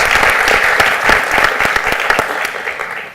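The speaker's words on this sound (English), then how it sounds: "So let's give it another round of applause for Nina" An audience applauds at a panel event with a full burst of clapping, many individual sharp claps standing out in a loud, sustained round that fades slightly at the end.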